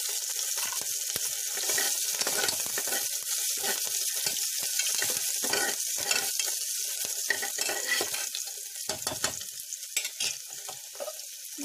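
Cinnamon and cloves sizzling in hot oil in a pan while being stirred for jeera rice: a steady bright crackle with frequent scraping, clinking stir strokes throughout, moderately close and without speech.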